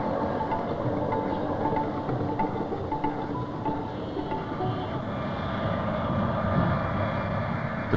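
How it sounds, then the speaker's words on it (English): King Khalid's special Saudi Airlines Boeing airliner flies in over Islamabad and Rawalpindi, giving a steady, broad engine rumble that holds at an even loudness throughout with no voices. "King Khalid's special Saudi Airlines Boeing flies in to herald the start of his 6-day royal visit"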